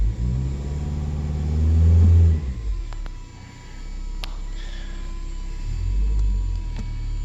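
A 2010 Toyota Corolla S with a misfire idles close by, revving up briefly and then dropping back to an uneven, rumbling idle.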